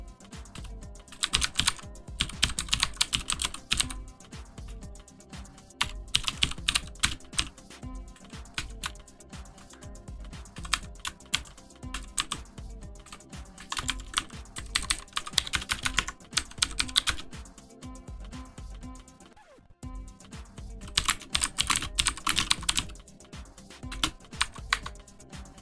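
Close, crisp computer keyboard typing while writing C game code, arriving in bursts of rapid clicks separated by short pauses, with no talking.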